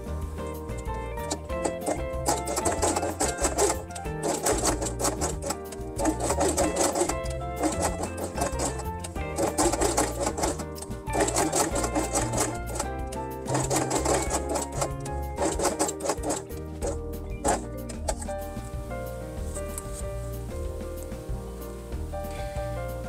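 A sewing machine stitching along the edge of felt pieces, running in steady whirring bursts with brief pauses between them, no voices.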